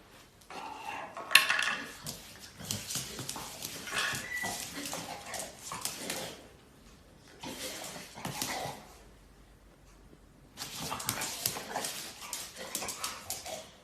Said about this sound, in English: Every time this dog receives a treat, he does a little dance to celebrate.